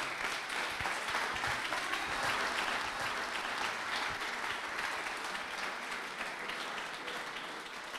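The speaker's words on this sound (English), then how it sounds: "Let's give Scott a round of applause." Sustained audience applause fills a room at a Startup Grind entrepreneurs' event in Wichita, a dense, steady wash of many hands clapping that holds for about eight seconds and eases slightly at the end.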